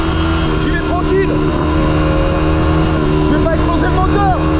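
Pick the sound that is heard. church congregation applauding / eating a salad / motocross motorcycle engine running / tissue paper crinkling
motocross motorcycle engine running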